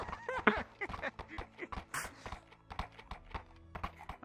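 Horse hooves clip-clopping in a steady walking rhythm, fairly close and moderately loud, with a brief higher squeal partway through.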